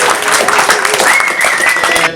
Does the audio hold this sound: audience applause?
yes